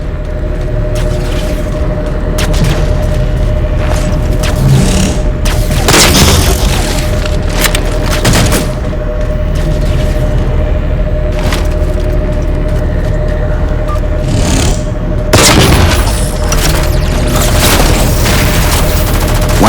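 Heavy gunfire and booming explosions in the Halo 4 campaign, a constant loud battle din with repeated deep blasts and a steady engine-like hum underneath.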